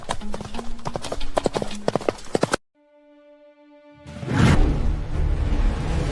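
Horse hooves clip-clop in quick, uneven beats during a prehistoric horse hunt drive, loud and close, then cut to a brief sustained tone before a loud rush of noise returns.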